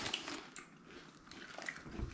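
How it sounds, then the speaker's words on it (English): Bites into a Finnish potato chip give a few crisp, close crunches with brief chewing between them, no talking over it. "Good chip. I would say it has a good crunch factor."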